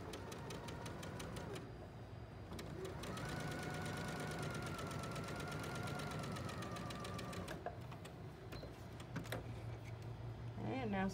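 A sewing machine stitches a seam with a steady, fast mechanical whir, running continuously for several seconds, pausing briefly and then starting again, close and moderately quiet.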